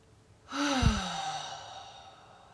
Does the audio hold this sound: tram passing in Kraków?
no